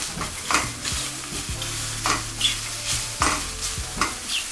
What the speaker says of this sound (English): So the mushrooms are getting nicely browned